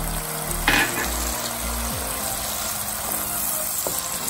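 Coconut milk poured into a pan of shrimp and arum lobe, giving a brief burst of splashing and hissing, then a steady soft simmering sizzle with low background hum.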